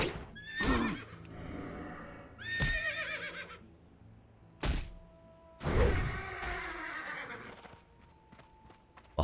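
Zebras in a craft survival video game give several loud, close whinnying neighs amid hollow thuds and hoof clops, with quieter gaps between calls.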